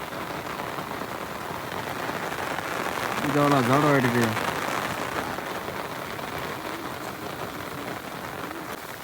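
Steady rain falls on a farm where cows and goats are kept, a continuous wash of drops through the whole stretch, with a voice speaking briefly in the middle.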